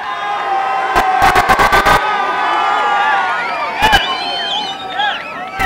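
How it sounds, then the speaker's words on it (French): A large crowd at a 1988 softball game roars and boos loudly at the next batter, voices overlapping in a sustained din with sharp clacking bursts and whistles rising above it. "j'aimerais qu'on accueille avec des huées le prochain frappeur"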